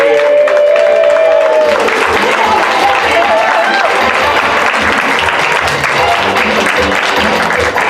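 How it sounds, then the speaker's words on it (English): Loud, sustained applause from an audience at an improv theater show as performers are called onto the stage, dense clapping filling the whole stretch with some crowd noise mixed in. "I need a round of applause for the adventurers to come out on stage"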